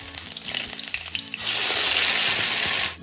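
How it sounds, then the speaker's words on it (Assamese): Whole cumin seeds and a bay leaf hit hot oil, and the moderate crackle swells into a loud, steady sizzle midway before cutting off near the end. "এতিয়া তেলখিনি গৰম হৈছে গোটা জিৰা কেইটামান দি দিছোঁ তেজপাত বেছিলা দি দিছোঁ"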